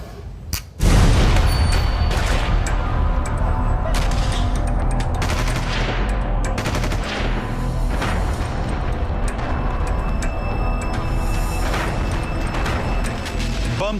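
Sustained gunfire and explosions during fighting in Afghanistan, a loud, dense barrage of overlapping shots and booms that erupts after a brief quiet start and continues without pause.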